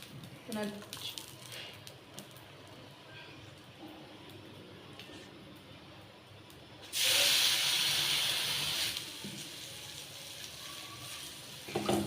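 Oil poured onto a hot griddle for flatbreads bursts into a loud, sudden sizzling hiss about two seconds long, then settles into softer frying, with a person speaking before and around it.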